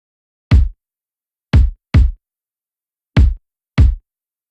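Layered kick drum hits pairing a clicky high kick with a standard kick, five punchy isolated thumps in an uneven pattern, each a sharp attack with a short low decay, loud and dry with silence between.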